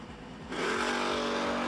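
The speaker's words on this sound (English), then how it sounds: "Side by side, little Phil from DeMossville, Kentucky, in his S10 against Wes Lockhart in the Firebird." Drag race cars launching side by side at the No Delay Nationals, a Chevrolet S10 pickup against a Pontiac Firebird. A low idle rumble jumps into a loud, sustained, harmonic engine roar as both leave the line, with no talk.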